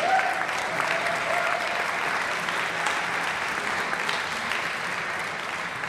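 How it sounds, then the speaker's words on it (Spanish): An audience gives loud, sustained applause, a dense steady clapping from a crowd that continues throughout. "Fuerte aplauso para Carlos."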